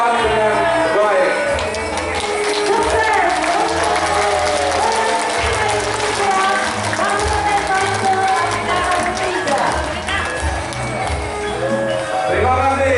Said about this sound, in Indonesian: Tepuk tangan untuk rekan-rekan CGP sekalian.